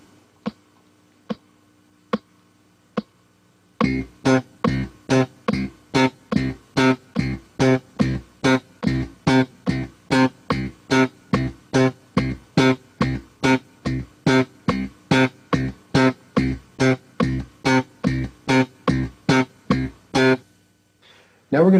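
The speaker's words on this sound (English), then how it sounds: "So playing that with the metronome, it should sound like this." Short staccato slap bass notes on electric bass, cut off right away, land in an even, steady pulse in time with a metronome whose clicks open the passage alone before the bass joins.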